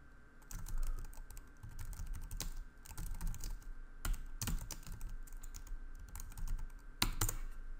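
Steady bursts of computer keyboard typing, close and fairly quiet, with irregular clusters of key clicks and a few louder taps, and no talking.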